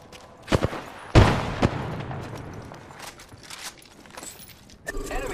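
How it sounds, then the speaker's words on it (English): Scattered gunshots and impacts in a battle royale video game fight, a few sharp loud cracks followed by lighter intermittent shots and movement sounds, with short in-game voice lines over the action. "Opening fire on the enemy."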